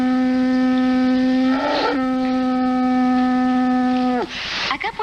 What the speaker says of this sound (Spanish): Veremos qué sucede cuando introduzco el embudo en el jabón y soplo fuerte.